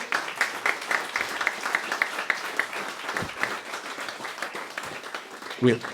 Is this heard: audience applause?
yes